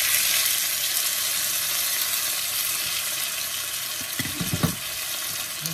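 Tomatoes tipped into a pan of oil where garlic has already browned: a steady, close frying hiss throughout, broken near the end by a brief clatter and a louder burst of sizzle as the tomatoes land.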